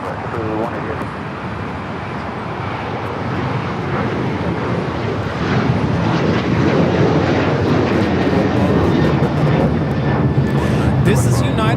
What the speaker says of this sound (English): taking off to Houston Intercontinental on the 737-900ER